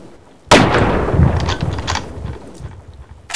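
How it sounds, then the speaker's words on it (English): A loud, close video game gunshot bursts in sharply after a short quiet lead-in, followed by ringing, crackling decay and a few smaller follow-up impacts. "Was that you that just shot me?"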